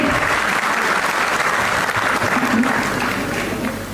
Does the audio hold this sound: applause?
yes